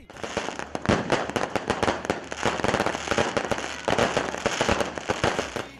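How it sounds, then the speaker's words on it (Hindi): Dense, rapid bursts of fireworks at a political rally in Islamabad crackle and bang continuously, loud and close, with sharp pops overlapping in an unbroken barrage. "जबरदस्त आतिशबाजी भी की गई"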